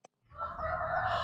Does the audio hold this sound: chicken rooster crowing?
yes